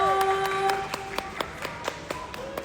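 A small group at a mall event claps in sharp, separate slaps, the applause thinning to a few irregular claps against a faint background tone.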